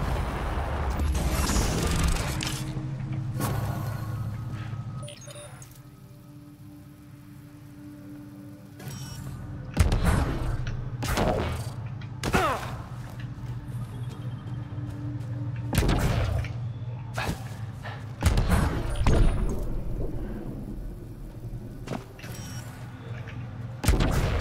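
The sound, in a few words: forward station deploying, from video game Mass Effect: Andromeda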